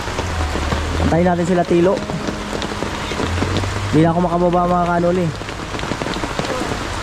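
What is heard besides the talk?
rain falling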